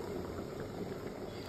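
A pot of dal, lentils, boiling on the stove during village-style Assamese cooking, giving a soft, steady bubbling hiss that stays faint and even throughout, with no speech.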